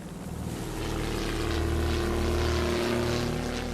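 A WWI biplane's engine and propeller drone steadily, a loud continuous rumble that swells slightly and holds throughout.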